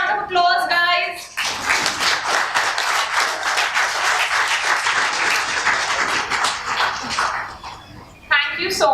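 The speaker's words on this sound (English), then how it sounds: "Give a huge round of applause, guys." Audience applause at a kids' public speaking talent event, a burst of close clapping from a room full of people lasting several seconds, bracketed by a voice speaking briefly at the start and end.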